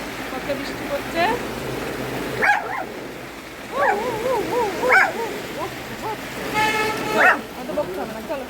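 A pet dog barks and yelps in a few short bursts at a home during heavy rain, mixed in with a voice talking over it.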